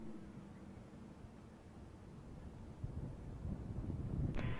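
Strong, gusty wind buffets the microphone at an airfield, a steady low roar that swells louder toward the end, with a brief sharp rattle near the close.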